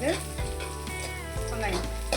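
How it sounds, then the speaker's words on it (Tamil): Finely chopped garlic slices sizzle and crackle steadily in hot oil in a pan, a soft close frying hiss with occasional stirring scrapes for Gobi Manchurian. "எண்ணெய் ஊற்றிட்டு பூண்டு போட்டிருக்கேன்."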